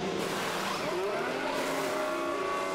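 Formula 1 car pulling out of the pit lane after a stop at the Hungarian GP in F1 Manager 23, a steady engine drone with rising tonal whine held throughout at close, even loudness.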